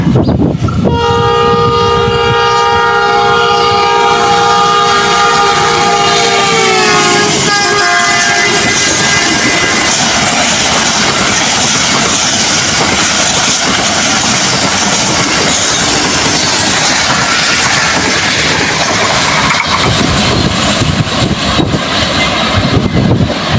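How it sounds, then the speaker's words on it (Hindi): The Khyber Mail express train speeds through New Multan station toward Lahore, a loud horn blast sliding down in pitch as it passes, followed by a sustained heavy roar of wheels and carriages. "ये ट्रेन आती हुई न्यू मुल्तान स्टेशन पर क्या ज़बरदस्त स्पीड से जा रही है लाहौर की तरफ"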